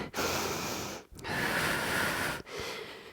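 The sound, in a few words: forceful exhale during squats on heavy leg day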